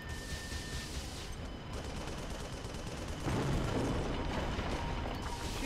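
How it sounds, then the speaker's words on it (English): Missiles are fired inside a prison base in the video game Project Nimbus, making a steady roar of launches and explosions that swells louder partway through and does not let up. "They're pretty confident firing missiles inside their own prison base"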